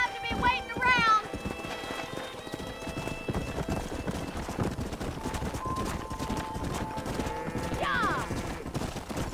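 A horse gallops at a steady clip-clop rhythm in Red Dead Redemption, hooves close and continuous alongside a neigh, a bright whinny near the end, and rushing outdoor ambience beneath a short spoken reply.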